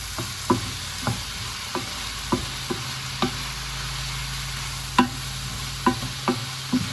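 A sugar and black soy sauce mixture is stirred in a pan with a utensil, giving a dozen or so sharp scraping clicks at an uneven rhythm over a low steady sizzle, close and fairly quiet, with no voices.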